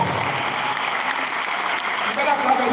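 An audience at a student loan sensitization programme for tertiary institutions claps steadily to welcome a guest, with the dense applause running evenly throughout and faint voices mixed in.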